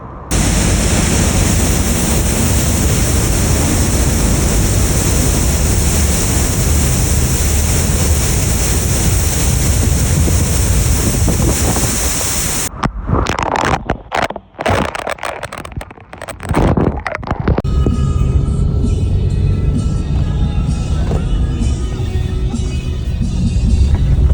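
A waterfall in Baños, Ecuador roars as a loud, dense, steady rush, broken midway by gusty buffeting and dropouts before the constant torrent returns.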